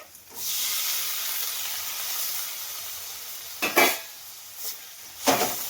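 Chopped tomato dropped into hot oil with grated ginger, a soft steady sizzle of frying broken by a few clinks and scrapes of a spoon stirring the pan.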